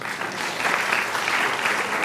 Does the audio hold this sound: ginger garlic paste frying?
no